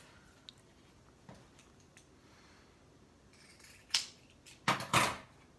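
Scissors trimming fabric for a sewn face mask, a few quiet snips and then a quick cluster of crisp, close cuts near the end, with no talk.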